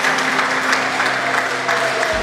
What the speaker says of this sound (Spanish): Ya les están aplaudiendo cuando llegaron.